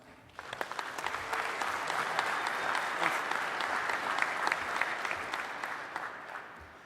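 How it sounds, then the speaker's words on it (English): A conference audience at the DEF CON 24 security convention claps in a steady, dense round of applause that swells quickly and holds, moderately distant in a large hall, with no speech over it. "Let's give these guys a big round of applause."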